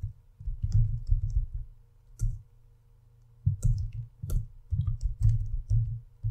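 Mouse clicks and keyboard typing at a computer while entering a column name in Power BI, scattered sharp ticks in quick bursts and single taps, close and fairly quiet over a low background hum.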